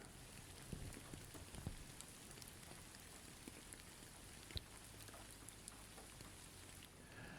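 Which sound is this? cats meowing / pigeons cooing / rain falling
rain falling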